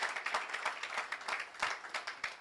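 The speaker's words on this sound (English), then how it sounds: "Let's give a long round of applause and invite her" An audience gives a round of applause welcoming the chief guest speaker at a satsang gathering, faint and somewhat distant, with clustered claps rising and falling in a soft, irregular rhythm.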